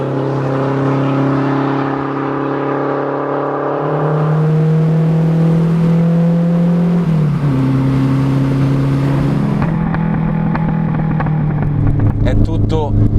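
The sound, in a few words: rally car engine while driving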